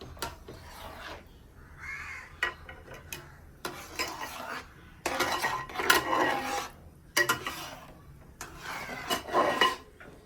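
Mango rava kesari is stirred in a pan with a metal spoon, scraping strokes coming in bursts separated by pauses, moderately close and fairly quiet.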